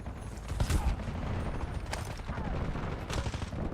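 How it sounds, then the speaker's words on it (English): Gunfire in Call of Duty Warzone, with several muffled distant shots and bursts over a rumbling battlefield backdrop. "Taking fire over here."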